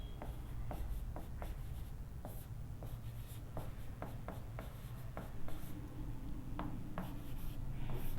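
Chalk or marker writing on a board during a differential calculus math lecture, a steady run of short scratchy strokes and taps repeating throughout at moderate distance, with no voice over it.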